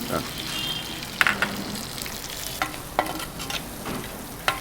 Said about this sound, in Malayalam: ഇതിലേക്ക് നമുക്ക് തക്കാളി അരിഞ്ഞത് ഇതിലേക്ക് ഇടാം